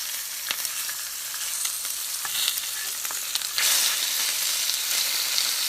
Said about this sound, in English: Here's our delicious bacon cooking up something proper